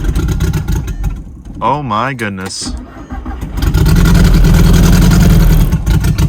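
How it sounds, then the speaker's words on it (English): A car with no vacuum lines, unstarted for a month, cranks and fires on three cylinders, settling into a loud, rough, lumpy idle; a voice briefly exclaims beforehand. "Let's start this thing with 3 cylinders firing."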